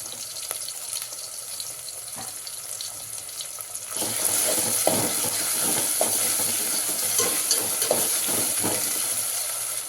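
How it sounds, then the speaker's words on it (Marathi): Ginger, garlic and coriander hit a pan with tomato and sauté with a hissing sizzle that swells louder partway through, broken by the soft scrapes and knocks of stirring. "हे छान आपण परतून घेऊया एक चमचा अद्रक लसूण कोथिंबीर टाकत आहे"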